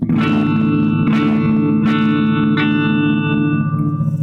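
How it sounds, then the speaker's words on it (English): A sustained electric guitar chord through a vintage-style phaser pedal, with a swirling, sweeping effect, struck a few times and ringing loud with echoey wash. "You can hear just a tiny bit of that phase."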